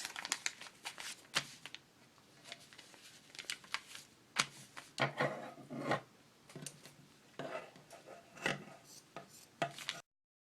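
Scissors cutting out fabric potholder backs for a reproduction 1930s cat potholder, quiet close snips and rustling fabric in irregular bursts.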